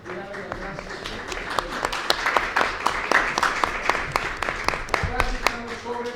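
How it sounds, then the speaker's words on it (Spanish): An audience applauds the speakers at a philately and Esperanto event with a burst of sharp, dense clapping, while a voice talks over it. "Quiero pedirles un aplauso a los ponentes y darle las gracias."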